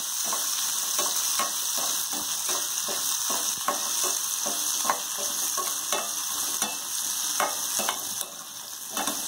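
Shallots sautéing in a pan for radish onion sambar, a constant loud sizzle with a rhythmic series of spatula scrapes and taps running through it.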